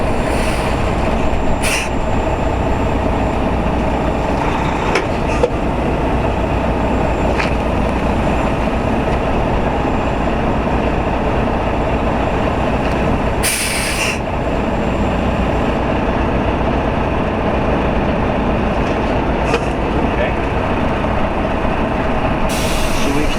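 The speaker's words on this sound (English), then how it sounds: "We're going to go ahead and pull the tractor ahead just about a half a foot and slide the fifth wheel back a very short distance" A semi tractor idles and creeps forward while its fifth wheel is slid back a few notches in a transport yard, giving a steady diesel rumble with sharp hisses of air and a few metallic clunks.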